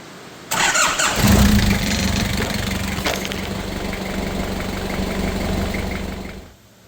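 Engine of a Nissan Navara or Ram 1500 truck just after an oil change, cranking and catching, then settling into a loud, steady close idle for several seconds before the sound cuts off abruptly; no speech.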